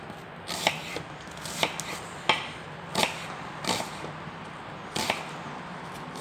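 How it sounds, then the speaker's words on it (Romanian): An onion being chopped with a knife on a board, sharp close knocks falling at an uneven, unhurried pace, about one a second, over quiet room noise. "O să tăiem ceapa."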